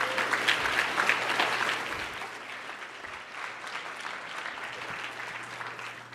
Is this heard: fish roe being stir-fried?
no